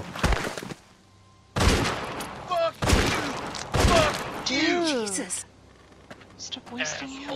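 Gunfire in The Walking Dead video game, with several loud shots spaced across the first few seconds among shouting voices, then quieter speech afterward.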